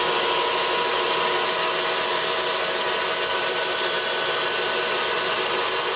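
A 9x20 CNC lathe cuts a part, giving a loud, continuous, steady machining whine with a high tonal ring that holds through the whole stretch.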